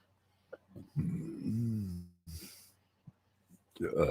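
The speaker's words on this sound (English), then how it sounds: "I didn't mean to burp in the camera and the microphone." A person's burp, a short throaty belch with a falling tone near the start, close to the microphone and set among breaths and brief speech sounds.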